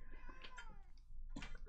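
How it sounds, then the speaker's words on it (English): A house cat meows for attention indoors, giving a couple of short, plaintive calls close by, followed by a brief louder burst of noise near the end. "When it meows for attention, it just sort of breaks my heart."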